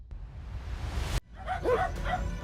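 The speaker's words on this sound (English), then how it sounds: "a CCTV camera caught sight of a street dog behaving in a rather strange manner" A street dog caught on a CCTV camera at night: a short bark and yips, mid-distance, following a rushing burst of noise, over a steady low rumble of background hiss.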